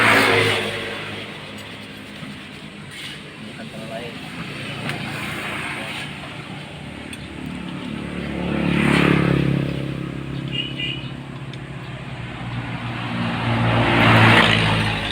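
A motorcycle engine at a repair shop idles and then swells into two slow, rising revs, loud and close, with faint clattering and scraping from the workshop around it.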